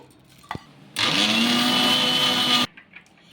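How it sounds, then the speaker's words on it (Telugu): Mixer grinder grinding cooled roasted oats into fine powder: a loud, steady motor whir with a rising pitch that runs for almost two seconds and then cuts off, preceded by a brief click and followed by light handling noises. "ఈ ఓట్స్ని వచ్చేసి మెత్తని పౌడర్ లాగా మిక్సీ పట్టేసుకోవాలి"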